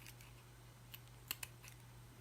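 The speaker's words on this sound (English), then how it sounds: "So just want to trim off any of that that's still the natural color around the edge." Scissors trimming the frayed edges of burlap fabric, a few quiet crisp snips spaced apart against a faint background hum, with no talking.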